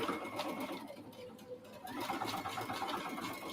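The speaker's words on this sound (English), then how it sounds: "we're just going to top stitch that seam allowance right down" A sewing machine top stitching the seam allowance of a cross body bag runs in a steady, fast whirring rhythm, close and fairly quiet, with a brief slowdown midway.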